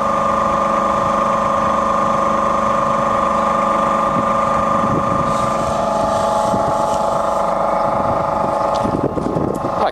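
A Fexac Model UG universal milling machine runs its table power feed, traversing left and then right: a steady mechanical hum and whine with motor tones, constant and fairly loud throughout, with slight shifts in texture partway through.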